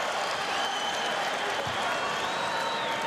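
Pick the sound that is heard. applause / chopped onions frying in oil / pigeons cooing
applause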